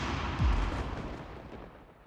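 Artillery guns firing in a wartime setting: a heavy low boom lands near the half-second mark and a dull rumble fades away after it, with no speech.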